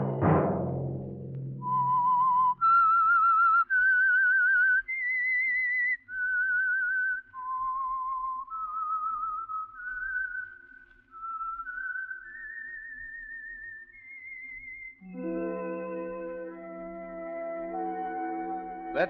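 A lone whistler performs the eerie, wandering melody of The Whistler radio show theme, clear and close for about fifteen seconds, before an orchestral chord swells in at the end.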